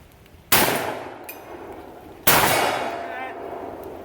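Two sharp, loud shotgun blasts at a competitive shooting stage, about two seconds apart, each with a sudden crack followed by a long fading echo and ring.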